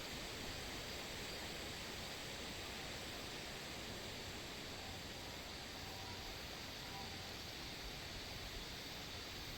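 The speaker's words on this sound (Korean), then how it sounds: "집 앞에 하천이 흐르고 있어서 물소리가 들리는 장점이 있습니다" Steady, continuous rushing of a stream flowing in front of a rural house, an even hiss with no breaks, fairly soft and unchanging throughout.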